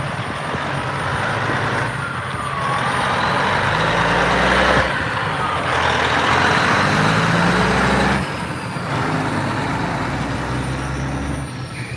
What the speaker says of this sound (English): That's the third dump truck to leave, packed full of dirt.